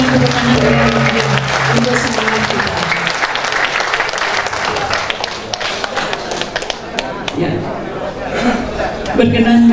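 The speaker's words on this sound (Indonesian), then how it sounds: "Kita berikan tepuk tangan untuk semua kita." Applause from an audience at the opening of a large organizational congress in a hotel in Malang, a dense sustained clatter of many hands, with chatter and voices mixed in throughout.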